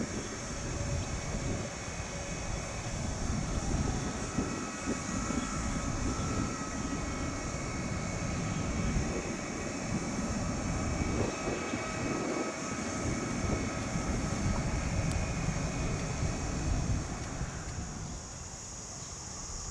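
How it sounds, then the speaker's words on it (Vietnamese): A colourful Chinese cargo plane takes off at Noi Bai airport, its jet engines roaring steadily and loudly throughout, with a high whine on top and the noise easing slightly near the end. "Quãng đường chạy đà của chiếc máy bay này cũng khá ngắn."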